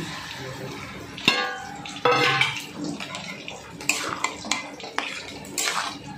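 A utensil clinks and scrapes against a pan as banana stem and papaya are stirred together, giving irregular metallic knocks and rattles at close range.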